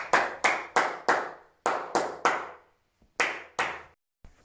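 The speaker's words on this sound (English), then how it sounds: "Clapping so you can hear." Sharp hand claps ring out one at a time in a bare, empty recording studio with plain white walls and no acoustic treatment, about ten loud claps in uneven pairs and groups, each followed by a short, bright reverberant tail.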